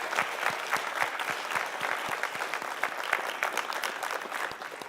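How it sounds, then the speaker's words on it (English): Audience at a transit authority board of directors meeting gives a steady round of applause, dense overlapping claps sustained throughout at moderate loudness in an indoor room, with no talking. "I want to ask for another big round of applause."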